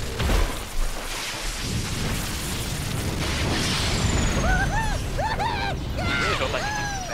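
A firework explodes in the video game Overlord II, a deep boom and rumbling blast that fades into a crackling wash, followed by chirpy high-pitched game creature cries.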